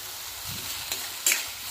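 Ground spices sizzling and frying in oil in a pan, a steady close hiss with a couple of faint stirring scrapes.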